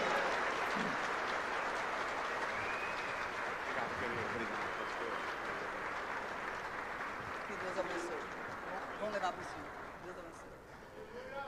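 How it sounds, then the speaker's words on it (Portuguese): A church audience at a wedding service applauds in a sustained, dense wash of clapping that slowly tapers toward the end. "quero pedir para vocês aplaudirem a Jesus pela vida do pastor Abe Huber"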